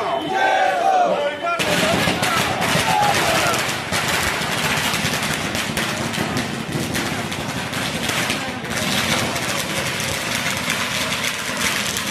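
A large crowd at a campaign office inauguration for a Lok Sabha candidate in Maharashtra erupts into loud, continuous clapping and rhythmic slogan chanting, a dense roar that starts abruptly after a quieter opening and persists throughout.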